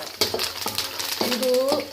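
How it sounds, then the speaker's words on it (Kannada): Curry leaves fry in hot oil with the gas turned off, giving a close, crackling sizzle with a few clinks and scrapes of a spoon against the pan. "ಇದು ಎಣ್ಣೆ ಬಿಸಿ ಇರುತ್ತಲ್ಲ, ಕರಿಬೇವು ಎಲೆ ತಾನಾಗಿ ಫ್ರೈ ಆಗ್ತವೆ"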